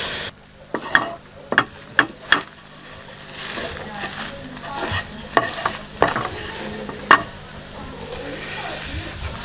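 Coca-Cola boils down to a thick syrup in a pan while a utensil stirs and scrapes it, giving repeated sharp clinks against the metal over a low bubbling sizzle.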